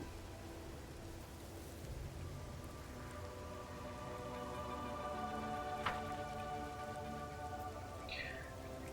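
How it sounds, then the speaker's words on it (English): Rain falling in the fantasy role-playing game Pathfinder: Wrath of the Righteous, a steady soft patter of drops with a faint low rumble beneath, continuous throughout with no voices. "it's raining blood. Literally, I mean, you can see that, right? Little drops of blood."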